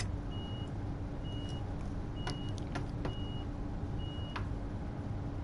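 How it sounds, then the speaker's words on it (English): Door-closing warning in Train Sim World 2 on the Cologne high-speed line: five evenly spaced electronic beeps repeat over a steady low hum of the train, with a few sharp clicks in between. "I'm going to get the doors shut now"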